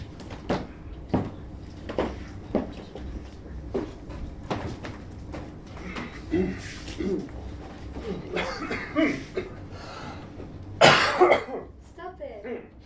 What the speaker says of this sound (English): I always cough after that.